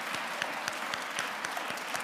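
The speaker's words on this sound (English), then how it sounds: "can we applause?" A school chapel audience applauds steadily, with a dense, continuous wash of many hands clapping at an even level and no voices rising above it.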